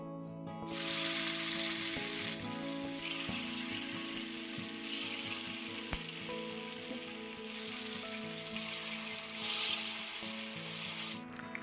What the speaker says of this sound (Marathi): कढईमध्ये पकोडे टाकून झाले की लगेचच त्याला हलवायचं नाहीये